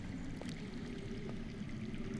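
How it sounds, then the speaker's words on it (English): A steady, faint stream of running water trickling underground in a cave setting in the Game of Thrones adventure game, continuous and distant, with no voices. "I hear water. From underground."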